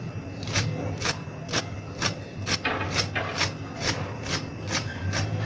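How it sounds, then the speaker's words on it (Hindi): Crispy fried potato cheese balls being crunched in a steady series of about eleven sharp, close bites or breaks, roughly two per second, with no one talking. "इंतहाई क्रिस्पी और क्रंची, आप सुन सकते हैं।"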